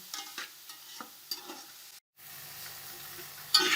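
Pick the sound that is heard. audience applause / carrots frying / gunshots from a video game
carrots frying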